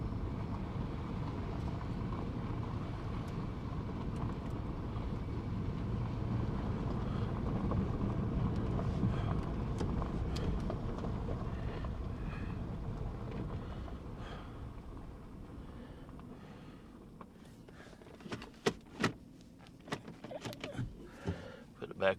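An El Camino drives along with a steady low engine and road rumble heard from inside, easing toward the end, where a few sharp clicks and knocks stand out.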